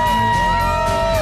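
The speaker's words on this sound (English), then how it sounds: "the biker crowd gets fired up" A biker crowd at a bar during the Sturgis rally whoops and cheers loudly in a short, dense burst of shouting voices.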